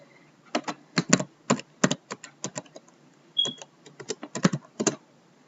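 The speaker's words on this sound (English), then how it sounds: "it'll prompt for an IP address, so I have to type this in." Quick bursts of computer keyboard typing, close and clear, as an IP address is entered: irregular clusters of crisp key clicks with brief pauses between them, no voices.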